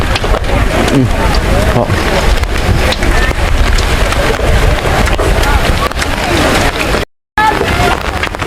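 Steady, dense rain pours down close by, a continuous broadband hiss with a brief dropout near the end; a faint voice may sit underneath.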